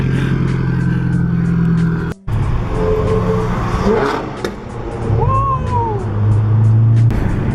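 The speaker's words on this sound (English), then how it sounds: "let's get a cold start for you guys" Subaru BRZ engine on a cold start with an aftermarket downpipe, a steady loud idle rumble after a brief cutout, with voices talking nearby.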